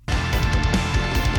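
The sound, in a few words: reggae drum kit from sample library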